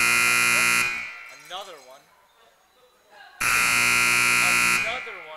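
A basketball game buzzer blares twice, each a loud, steady, harsh electronic blast about one to one and a half seconds long, separated by a quiet gap with a voice speaking.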